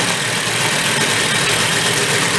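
A trashed 1970 Benelli mini bike's small engine idles loudly and close up, a steady, dense, buzzing putter with no change in pace, with no talk over it.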